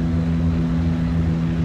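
A steady aircraft engine drones with layered low harmonics as power rises in the flight simulator game Flight Sim World, continuous and fairly loud, with no talking.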